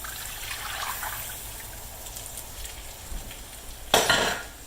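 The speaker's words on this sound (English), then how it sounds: "I'm just putting some water in this skillet so that it's not so pasty I can't get it clean." Water hits a hot skillet in a home kitchen, giving a faint sizzle and trickle, then a sharp louder hiss burst near the end as more water lands on the pan.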